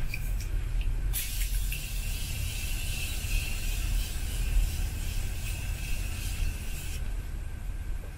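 A fine, steady hiss of spraying mist runs for several seconds close by, over a constant low background rumble.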